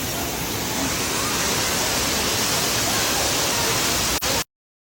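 A powerful waterfall roars in a steady, dense broadband rush close by, unbroken for several seconds before cutting off abruptly.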